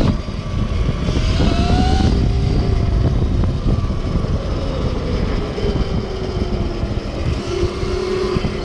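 A converted electric 2008 KTM 250SXF motorcycle with a QS138 70H V3 motor and EM260S controller rolls along with steady loud road and wind roar, a thin rising and falling motor whine threading through, without any talking.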